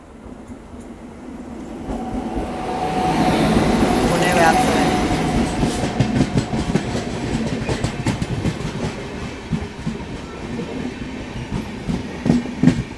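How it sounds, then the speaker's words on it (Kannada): Konkan Kanya Superfast Express rolling past, a sustained rumble with rhythmic clickety-clack of wheels building and staying loud throughout, heard from nearby on the track. "ಇಲ್ಲಿ ನೋಡ್ರಿ ಕೊಂಕಣ್ ಕನ್ಯಾ ಅಂತೂ ಬಂತು"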